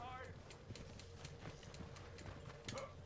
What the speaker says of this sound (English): I'm gonna stop my horse here.